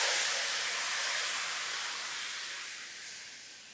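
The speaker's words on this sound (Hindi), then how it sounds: "जैसे मैं चाशनी डालूंगा एक उबाल आएगा पूरे हलवे के अंदर" Sugar syrup hissing and steaming as it is poured into hot semolina halwa, a loud broad sizzle that bubbles up at once and slowly dies down over a few seconds, heard alone.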